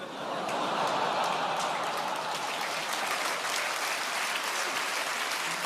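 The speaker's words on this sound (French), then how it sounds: "il vous fallait ça pour applaudir" A stand-up comedy audience in a club applauds steadily, dense clapping filling the room loudly and evenly for several seconds without a break.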